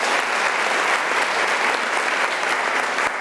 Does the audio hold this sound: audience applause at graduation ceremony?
yes